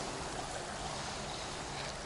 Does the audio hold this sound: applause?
no